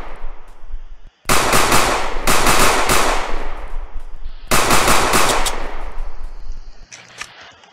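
Loud bursts of rapid automatic gunfire in a video game, two long sustained volleys separated by short pauses, followed by quieter scattered shots near the end.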